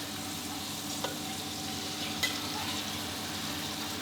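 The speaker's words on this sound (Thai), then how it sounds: "พอเต้าหู้เขาเซ็ตตัวดีแล้วก็หมั่นคนได้เลยครับเต้าหู้จะได้สุกเหลืองพร้อมๆกันนะครับ" Egg tofu frying in oil while being stirred, a steady close sizzle with a couple of faint spatula taps, with no talking.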